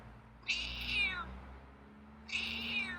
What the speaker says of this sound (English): Oh, wow. It's a strong meow.